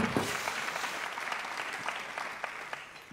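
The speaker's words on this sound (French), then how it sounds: "on peut applaudir" Audience clapping at a regional council congress session, a soft, fairly distant wash of many hands with a few sharper individual claps standing out, no talking over it.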